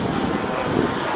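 An RC model Sebart Pilatus PC-21 airplane flies at the Joe Nall 2025 fly-in, its engine giving a steady, continuous whine with a thin, constant high tone.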